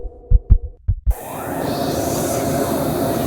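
Heavy, close heartbeat thumps pound out in a quick double rhythm, four strong beats, before giving way to a loud steady low hum and rumble, with no voices.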